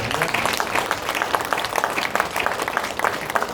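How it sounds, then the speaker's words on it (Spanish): A crowd applauds steadily, many hands clapping in a dense, continuous patter that stays loud throughout. "Esto es un aplauso de admiración, de reconocimiento, de amor por su presencia"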